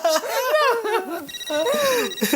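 A telephone rings in a sitcom home scene, with laughter and lively voices over the ringing.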